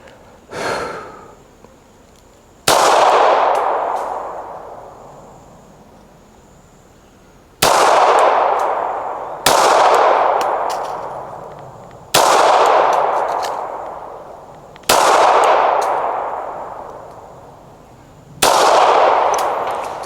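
Six loud gunshots at an outdoor shooting range, fired at a slow, deliberate pace several seconds apart, each a sharp crack with a long ringing decay, preceded by a faint soft rustle.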